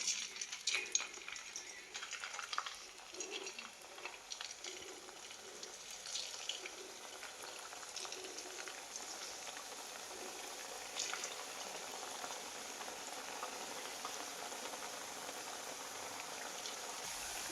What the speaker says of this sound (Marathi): आता ह्या तापलेल्या तेलामध्येच मी ही पापडी आहे ना पिळून घेणार आहे